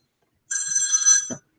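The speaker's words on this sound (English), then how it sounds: "And boom, phone ringing." A telephone rings once in a quiet room, a bright electronic trill lasting about a second, followed by a short low thump, with no one talking over it.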